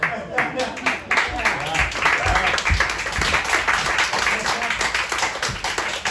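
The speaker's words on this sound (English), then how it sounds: "Keep applauding so I can drink." An audience claps and applauds continuously for several seconds, a thick, even crackle of many hands, while a voice talks over it.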